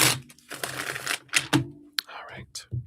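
Cards are shuffled for a tea-side reading, giving close, crisp bursts of riffling and flicking that come in uneven spurts with short pauses between them.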